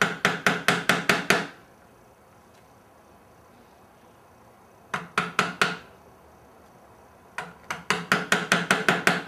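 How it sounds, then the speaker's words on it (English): A sharp, narrow chisel tapped carefully into wood while cutting dovetails for a box: three bursts of rapid, evenly spaced sharp knocks, close and loud, separated by quiet pauses, with no talking. "Go to the line and just tap it very carefully."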